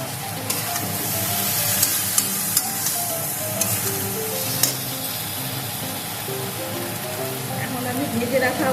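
Vegetables frying and being stirred in a pan for Bengali shukto, a continuous sizzle with scattered clicks of a utensil against the pan, fairly loud and close.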